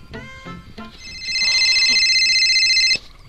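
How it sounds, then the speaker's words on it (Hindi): A phone rings with a bright electronic warble for about two seconds, cutting off abruptly, after a few brief voiced sounds at the start. "अरे यार मम्मी का कॉल आ गया।"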